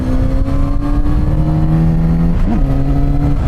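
Kawasaki Z900RS two-cylinder motorcycle engine pulling under acceleration on a test ride, a steady close throaty drone whose pitch briefly dips and shifts partway through, as if through a gear change, then carries on.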